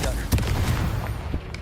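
Confringo fire spell blasts from the video game Hogwarts Legacy, heard as a quick run of loud, thudding bursts with sharp crackling onsets over a rumbling low end, all packed into under two seconds.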